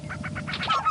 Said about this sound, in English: This is the lesser prairie chicken, a bird that could change the energy landscape in 5 states.